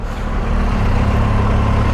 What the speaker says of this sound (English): Still trying to get used to the acceleration of the motorcycle, because it picks up, the engine revs rather rapidly.